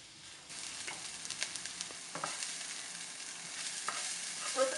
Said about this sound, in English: you can start them off on high heat, but when you start to see the edges getting brown too fast, you need to turn them down